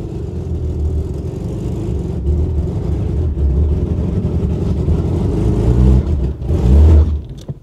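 A Ford Granada Mk2 2.8 Ghia X, long parked, revs steadily with a droning engine note as its wheels spin, loud and continuous throughout, surging higher near the end.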